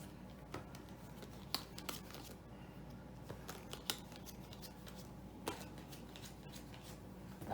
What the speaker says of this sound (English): Everyone's going to get 13 cards dealt out to them. I'll just kind